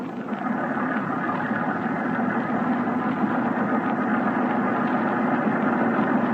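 A motorboat engine drones steadily in a radio drama chase on the Thames, a continuous low rumbling hum that stays loud and close without letting up, with no voices over it.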